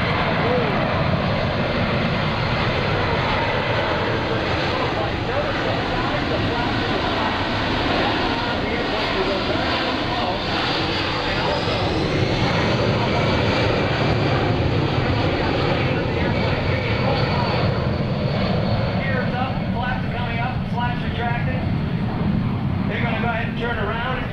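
Engines of a C-17 Globemaster III military jet transport roar loudly and steadily throughout a demonstration at a joint services open house, with a person talking over the continuous broadband noise.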